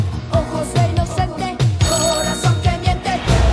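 A mobile phone rings with a repeating electronic ringtone pattern at a steady pulse. It sounds fairly close and plays over background music or noise, with no voices.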